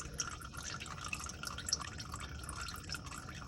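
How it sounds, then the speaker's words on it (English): Engine oil pouring from the open drain plug of a Nissan R34 into a pan, a faint, steady trickling and dripping stream with no talk. "Put the drain plug off, oil draining"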